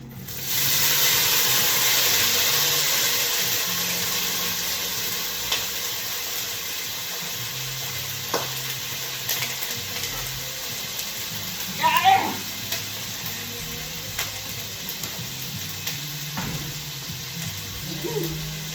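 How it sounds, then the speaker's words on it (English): Loud hissing sizzle of beans and carrots in a hot skillet starts right away and slowly eases into a quieter crackle, with scattered pops, a clink and some distant sounds. "So I'm gonna let this sizzle in the skillet."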